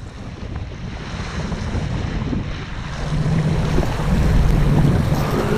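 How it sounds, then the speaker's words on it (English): Wind buffets a microphone outdoors on a breezy day of walleye fishing from a boat. It makes a steady, loud rumbling roar that builds slightly toward the end, with no voices. "there is a lot of wind noise. It was still pretty breezy out there"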